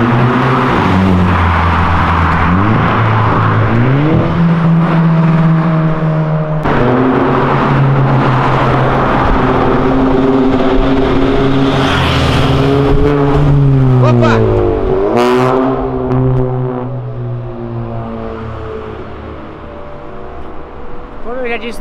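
A Dodge Ram pickup fitted with a Viper engine of over 500 hp drops through the gears as it slows for a speed radar. Each downshift sounds as a loud, rising revv, and people talk over the engine note throughout.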